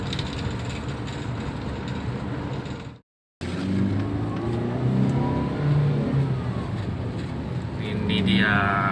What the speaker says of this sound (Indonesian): Gigi 4 speed 40, langsung kita injek gas, langsung bertenaga.